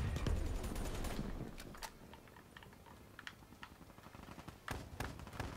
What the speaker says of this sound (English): Of course he has a shotgun.